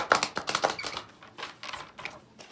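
Tarot cards being shuffled during a reading: a quick run of close, crisp papery riffles and slaps, dense at first and then thinning into a few softer flicks.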